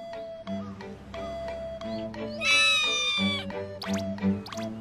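A cat meows several times, with a longer, higher cry in the middle, over a steady background of music-like tones in the game Hearts of Iron IV.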